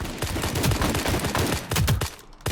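Rapid bursts of gunfire in a mobile tactical shooter game resembling Valorant, loud and close, with quick repeated shots and short pauses before a final cluster.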